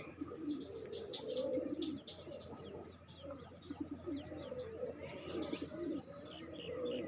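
Pigeons coo repeatedly in low, throaty rolls over steady background noise, with occasional faint chirps from other birds and no talking.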